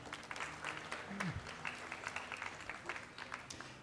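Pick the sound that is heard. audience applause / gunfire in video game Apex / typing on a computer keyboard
audience applause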